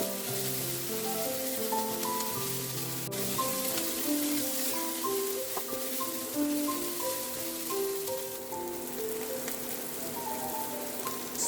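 Garlic and cabbage sizzle steadily in a single pan as they are stirred, a continuous crackling fry sitting under soft background music with melodic tones.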